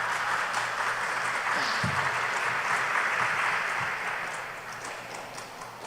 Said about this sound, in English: I would like you to give the entire panel a round of applause